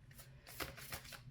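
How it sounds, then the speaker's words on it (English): Deck of playing cards being shuffled close up, a steady run of papery riffles and flutters with a few louder bursts, no talking. "I don't like shuffling on camera. It just takes so long."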